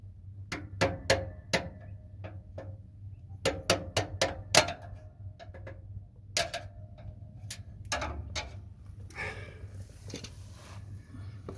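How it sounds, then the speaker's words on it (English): Sharp metallic clicks and taps ring out in uneven clusters as a screwdriver works a parking brake cable clip loose under a 2010 Mitsubishi Triton, close and distinct against a faint low hum. "Then we've got to try and get this clip down here. So I've got a screwdriver for that"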